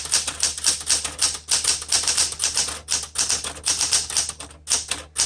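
Rapid keystrokes on a 1974 Smith Corona Classic 12 manual typewriter, a near, loud run of sharp clacks in uneven bursts with brief pauses, no voices.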